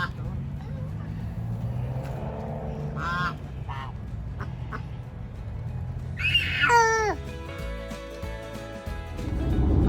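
A few nasal duck quacks burst out midway through a noisy outdoor scene, with a steady background rumble and murmuring voices around them.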